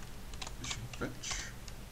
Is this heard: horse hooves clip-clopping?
no